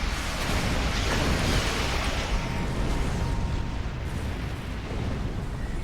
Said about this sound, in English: We'll fire some more of those torpedoes so you can see them.